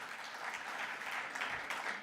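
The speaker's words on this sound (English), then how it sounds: "you definitely deserve a round of applause for staying with us the entire day" Steady audience applause at the close of a daylong event on inequality solutions, a dense, even wash of clapping from a crowd, moderately loud and continuous throughout.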